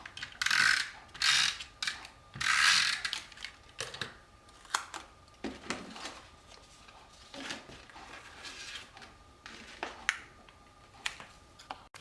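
A Stampin' Up Snail adhesive runner is rolled gently across cardstock, giving a series of short ratcheting clicks and whirring bursts, louder early on and then sparser, close up with no talking.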